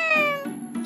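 A cat in a Professor Layton video game gives a clear, drawn-out meow with a descending tone, followed by a couple of shorter softer mews, no talking.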